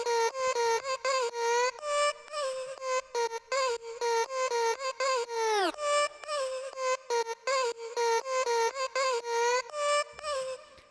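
Synth lead in an FL Studio future deep house project plays a choppy pattern of short bright notes, with one sustained tone midway that swoops sharply down and curls slightly back up before the pattern resumes.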